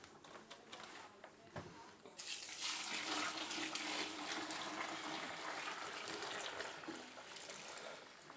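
Hot water at 160 degrees pours steadily into a pale ale grain mash during a bulk sparge, a rushing splash starting abruptly and running on, with faint handling sounds beforehand.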